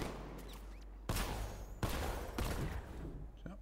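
A Batmobile's 60 mm cannon fires in Batman Arkham Knight, giving three loud, close, booming blasts about a second apart, each trailing into rumbling reverb, with no talking.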